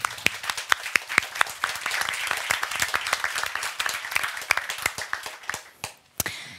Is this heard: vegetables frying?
no